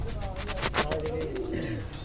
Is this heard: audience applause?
no